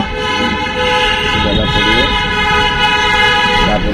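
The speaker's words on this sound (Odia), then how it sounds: "ଆପଣ ମାନେ ତ ଦେଖିପାରୁଥିବେ ଗାଡିର ହର୍ନ ବାଜୁଛି, ଆପଣ ମାନେ ଶୁଣିପାରୁଥିବେ।" A car horn toots in steady, sustained blasts from the street below a rooftop, holding a bright, buzzing pitch for the whole stretch amid traffic rumble.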